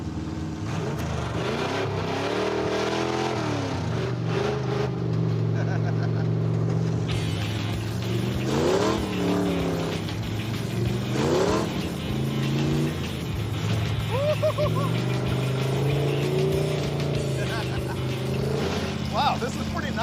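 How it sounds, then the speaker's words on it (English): A 1969 Dodge Charger Daytona driven off-road, its engine droning and revving steadily throughout with swells in pitch as it accelerates, heard from inside the car, with people talking over it. "I like driving this car off-road a lot."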